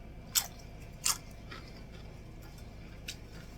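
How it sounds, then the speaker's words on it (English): Two sharp, close crunches from biting into a crisp pressed Cuban sandwich, followed by softer chewing crackles; quiet room, no talking. "I want you to hear the crunch on this."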